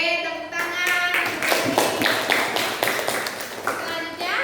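Classroom students clap their hands together in a loud, dense burst lasting several seconds, with children's voices calling out over the clapping.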